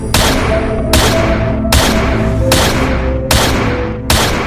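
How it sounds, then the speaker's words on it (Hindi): Gunfire in the battle royale video game Free Fire: loud, sharp shots repeat at an even rhythm, about one every 0.8 seconds, over a sustained tonal game backdrop. "गोलियों की आवाज सुन के गुल्ली बुल्ली शॉन और रॉड दीवार के पीछे"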